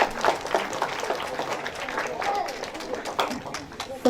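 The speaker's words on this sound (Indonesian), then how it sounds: "Kita berikan tepuk tangan yang luar biasa." An audience applauds at the inauguration and consecration of a new GKI church building, steady sustained clapping filling the space with crowd murmur and voices mixed in throughout.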